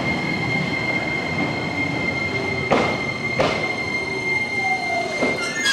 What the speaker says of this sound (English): Trains in Japan.